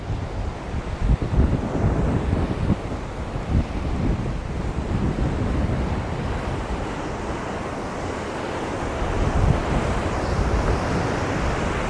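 A strong, rushing river current surges steadily near a temporary wooden bridge in rough mountain terrain of Kishtwar district, a dense continuous roar with gusty wind buffeting the microphone throughout and no voices.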